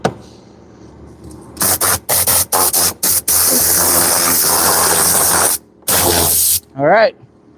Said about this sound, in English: Now we begin the steaming phase.